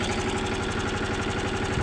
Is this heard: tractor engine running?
yes